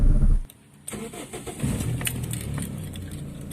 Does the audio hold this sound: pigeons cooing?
no